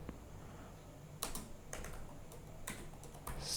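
Computer keyboard typing at a terminal, a few soft, sparse key clicks spaced out over quiet room noise, close and faint with no talking.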